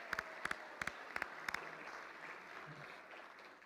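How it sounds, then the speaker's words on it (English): Sparse, sharp hand claps from a live show audience in Georgian College's Hawks' Nest 2023, ringing out in quick paired bursts for about a second and a half before dying away into quiet room noise. "Let's give them a big round of applause."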